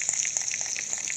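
Bread fries in a pan until golden, giving a steady close hiss with soft rhythmic crackles and no talking.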